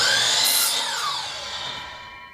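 A power saw trims the end of a wooden batten for board and batten siding, a loud high whine that drops in pitch as the blade bites, then winds down within a couple of seconds.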